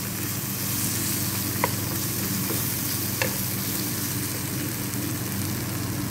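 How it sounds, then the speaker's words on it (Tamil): Cooked rice being stirred into a pan of fried chicken and egg omelet for homemade fried rice, giving a steady close frying hiss with a couple of sharp spatula clicks and no talking. "தேவைக்கான ரைஸ் போட்டு மிக்ஸ் பண்ணி எடுக்க வேண்டியதான்"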